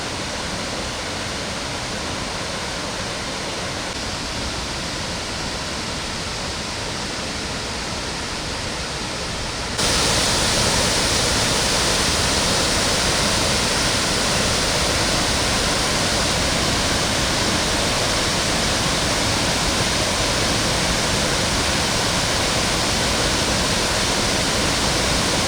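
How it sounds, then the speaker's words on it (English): Four Sisters waterfall on the Pakse Loop in Laos roars as a steady, dense broadband rush heard close at ground level, growing louder partway through, with no voices over it. "this is our first ground level view of the waterfall, and as you can see, it's looking pretty spectacular there."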